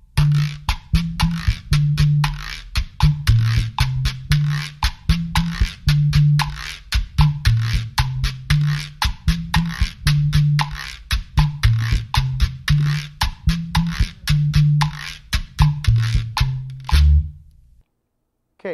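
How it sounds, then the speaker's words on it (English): Latin percussion ensemble plays the masacote rhythm of a solo section: a steady, driving pattern of conga-like low drum tones and bright, crisp strokes in a dense repeating groove, loud and up close, stopping cleanly at the end. "And it sounds something like this with percussion."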